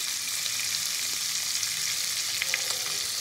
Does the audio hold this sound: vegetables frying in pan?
yes